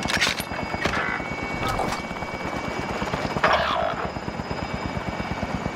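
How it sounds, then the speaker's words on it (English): A helicopter in Call of Duty: Warzone gives a steady, loud rotor chop that stays constant through the whole stretch, with a few brief bursts of game noise layered over the beating blades. "Should call in another chopper."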